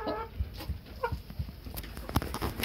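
A young frizzle rooster in a backyard coop gives a few short clucks and low calls, close by, with faint background noise and no speech.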